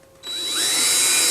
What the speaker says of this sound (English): I'm going to drill 2 more holes, about a 1/2 inch back from the front.